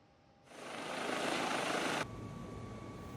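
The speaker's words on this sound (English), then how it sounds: "we have permission to start the engines" Helicopter engines spool up in a flight simulator, a sudden rising turbine whine and rotor roar that builds, holds loud, then drops to a lower steady hum.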